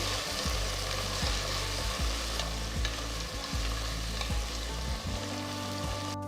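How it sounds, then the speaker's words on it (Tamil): Two chopped tomatoes sizzle in a hot pan with onions, the frying hiss steady and near while regular spatula scrapes stir the mixture every half second or so, no voices present. "அடுத்து நறுக்குன ரெண்டு தக்காளி சேர்த்து ரெண்டு நிமிஷம் வதக்குங்க"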